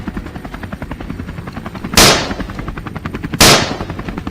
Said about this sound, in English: Gunfire erupted nonstop.